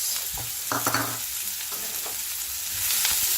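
Mixed vegetables stir-frying in hot oil for a prawn stir fry, a constant loud sizzle with spatula scrapes and clacks against the pan, close up and with no talking.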